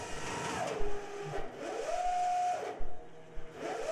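FPGA-driven synchronous motor spinning up toward rated speed, a faint electrical whine that sweeps up and down in pitch and then holds a steady tone, with soft low thumps between.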